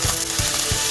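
Curry leaves sizzle loudly in hot oil, a dense steady crackling hiss close up, with a few soft rhythmic thumps of stirring beneath it.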